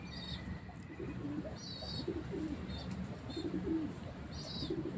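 A gifted pigeon coos softly in a bird keeper's loft, several low rolling coos repeating at a relaxed rhythm, with faint chirps of other birds nearby and a quiet background.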